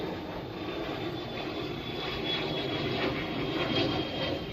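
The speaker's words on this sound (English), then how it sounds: "hello plane, another one." Airplane passing overhead, a sustained roaring engine drone that swells slightly louder toward the end, steady and fairly near, with no talking over it.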